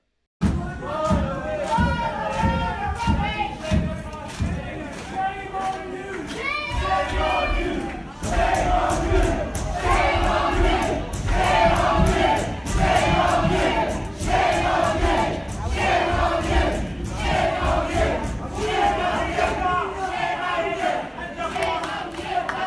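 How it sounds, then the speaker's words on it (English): Protesters in a council chamber heckle and boo Labour mayor Andy Burnham: a loud, dense crowd of shouting voices with rhythmic chant-like surges and thumps, sustained for the whole stretch. "the protesters who were talking about cover-up started heckling and booing Andy Burnham until he had to run away from the chamber"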